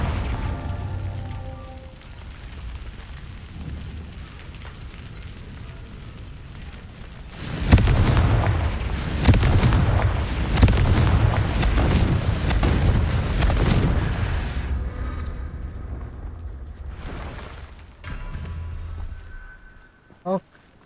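A Confringo fire spell explodes in Hogwarts Legacy, a sudden loud boom followed by several seconds of roaring, crackling blast debris, then fading rumble and a final sharp pop.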